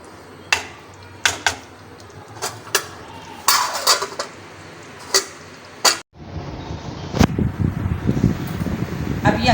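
Potato and egg curry is dished out of a pot with a ladle, giving a series of sharp metallic clinks and knocks, then a broader scraping clatter, with a fan-like hum and some talk in the background.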